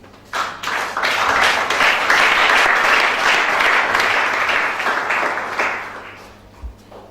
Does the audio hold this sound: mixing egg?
no